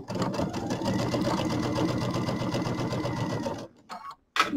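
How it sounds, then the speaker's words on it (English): A sewing machine stitches a short quarter-inch seam on a fabric project bag, a steady close-up hum running continuously for about three and a half seconds before stopping, followed by a couple of small handling knocks. "And then we'll sew up about maybe 2 or 3 inches here."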